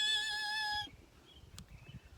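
A voice imitates car brakes screeching as a car stops quickly, a short high squeal that ends quickly and leaves faint background rustle.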